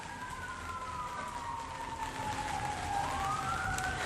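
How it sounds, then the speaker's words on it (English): Wailing emergency vehicle sirens sound in the distance outdoors during the Christmas season, faint sweeping tones that rise and fall and overlap over a steady background hiss. "crazy that the sirens are going on in the background"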